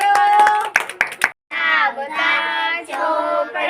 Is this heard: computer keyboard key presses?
no